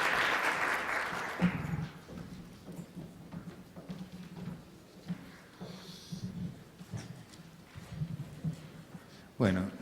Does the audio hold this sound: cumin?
no